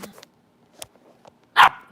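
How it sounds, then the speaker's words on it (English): A single sharp dog bark near the end, loud and close, after a few soft scuffles and clicks in an otherwise quiet room. "Stop barking at me."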